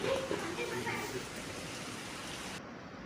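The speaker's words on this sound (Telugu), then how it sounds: "చాలా పెద్ద వర్షం పడింది ఇక్కడ" Heavy rain pours outside a room window in Shirdi, making a steady, even wash of noise for a few seconds. A faint voice is briefly heard at the start.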